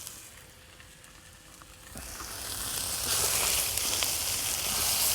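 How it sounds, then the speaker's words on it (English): Chicken pieces hit hot sesame oil in a cast iron pan and break into a loud, steady sizzle that swells and holds, a dense close frying hiss with no talking. "let me get my chicken in here, and we're going to brown this chicken up."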